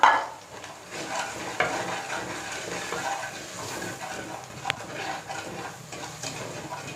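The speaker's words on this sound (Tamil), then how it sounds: "இப்போ இதெல்லாம் இதில் போட்டு நல்லா பச்சை வாசனை போகிற வரைக்கும் வதக்கிக்கலாம்" Chili, black pepper and garam masala sizzle in hot oil for a country chicken fry, stirred steadily, with the hiss rising and falling and a crisp spatula knock partway through.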